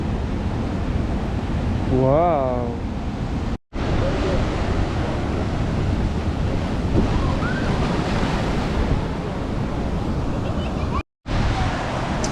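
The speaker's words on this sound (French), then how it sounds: "Et là, il y a juste les vagues derrière." Ocean surf rolling in behind a natural basin on Réunion island, a continuous broad wash of breaking waves with wind buffeting the microphone, a brief exclaiming voice and some chatter over it.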